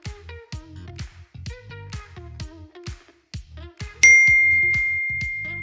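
A phone message notification gives one bright ding that rings out and slowly fades, following a run of rhythmic dull thumps like punches landing.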